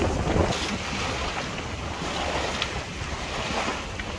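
A sailboat moves through choppy tidal water near Rame Head, with steady rushing water and hull wash under heavy wind buffeting on the microphone, constant and close.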